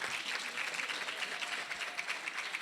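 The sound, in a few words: applause for the community relay women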